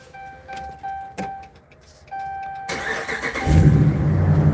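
A Hemi engine cranks and catches after a few quiet chimes and clicks, then settles into a loud, steady idle with a faint rhythmic tick.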